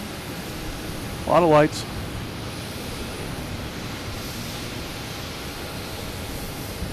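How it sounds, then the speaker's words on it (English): A distant Delta airliner taking off from Boston Logan Airport makes a steady broad roar beneath wind, with a brief spoken remark near the start. "We have a Delta taking off over here, heading to Detroit."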